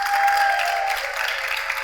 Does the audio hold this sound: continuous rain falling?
no